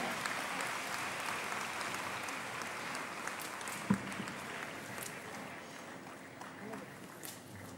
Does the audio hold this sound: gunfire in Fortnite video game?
no